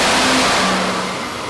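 Diesel truck engine revving hard on a chassis dyno, a loud continuous roar with a rising turbo whine running steadily throughout.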